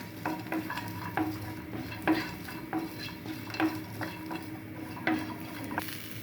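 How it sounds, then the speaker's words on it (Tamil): Ingredients with a little coconut roasting in a pan for a country chicken curry, a soft continuous sizzle under regular scrapes and clinks of a spoon stirring, close and quiet. "நல்லா வறுத்துக்கலாம்."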